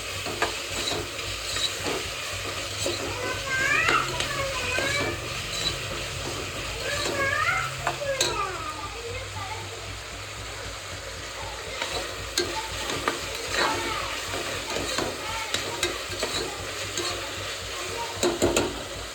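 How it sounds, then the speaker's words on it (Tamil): Tomatoes and onions sautéing in a pan for chicken biryani, a steady sizzle and fry with a spatula scraping and stirring through the mixture at close range, continuous and fairly loud, with no speech. "தக்காளி வெங்காயம் ஓரளவுக்கு நல்லா வதங்கிச்சு."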